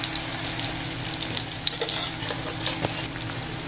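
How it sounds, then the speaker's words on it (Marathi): Chicken pakoras deep frying in oil, a dense continuous bubbling sizzle heard close and loud, with small crackles and pops scattered throughout and no voices. "अशा प्रकारे आहे ना हे सर्व आपण फ्राय करायला ठेवलेलं आहे"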